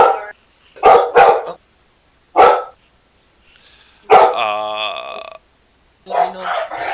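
Several dogs barking in short, sharp bursts, a few separate barks then a longer howling yelp, fairly close and loud with pauses between.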